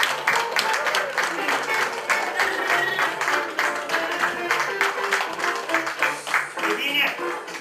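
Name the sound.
applause for Anișoara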